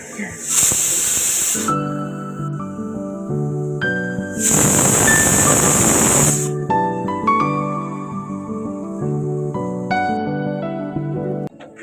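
A pressure cooker whistles while vegetarian dalia cooks, giving two loud, sustained hissing blasts a few seconds apart over steady background music.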